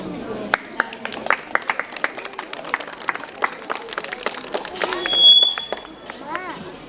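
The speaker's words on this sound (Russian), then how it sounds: "Аплодисменты 9 классу, хорошее выступление было." Classmates and guests at a school's end-of-year last bell ceremony applaud the 9th grade class, giving a scattered run of sharp, irregular claps that build slightly before fading, with a brief tone near the end.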